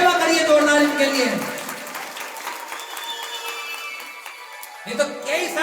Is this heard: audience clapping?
yes